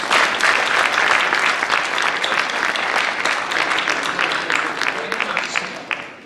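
Sustained applause from a school audience honoring students who kept a 3.5 or higher grade average all year, dense steady clapping that holds at full strength and tapers slightly near the end.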